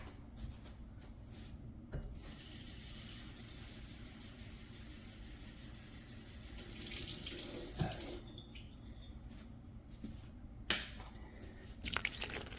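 A kitchen tap runs water into a cup for a boxed spice cake mix, a soft steady stream under low background rumble with a few clinks, and no talk.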